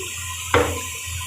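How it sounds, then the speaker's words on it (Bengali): A brief splash of water poured into a pot of lentils (dal) during cooking, one short burst that trails off over a steady low kitchen hum. "ডালটাতে একটু জল দিলাম"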